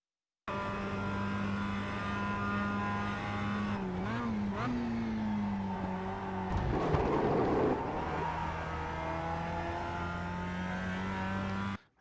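A Mazda MX5 race car engine in the iRacing game at the Charlotte track, droning steadily, then rising and falling through shifts with a rough burst of revving near the middle. It settles back into a sustained, loud drone until cutting off, with no talking.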